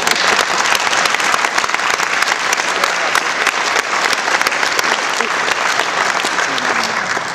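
Loud, sustained applause from a conference audience welcoming a speaker, dense clapping filling the room at even intensity throughout, with no talk.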